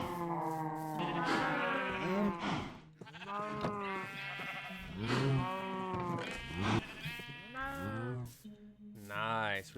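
Minecraft cows low repeatedly in the game, loud and close, their drawn-out calls overlapping almost without pause.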